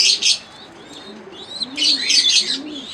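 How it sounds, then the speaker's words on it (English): Pigeons in a small home aviary coo in low, soft bursts while higher chirps and tweets from other birds crowd the air around them, close and fairly loud with no talking. "Pigeons."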